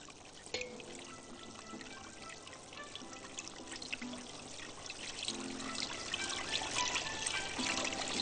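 Cold milk is poured into a béchamel sauce in a pan, a steady close liquid stream that grows slightly fuller toward the end, with no talking.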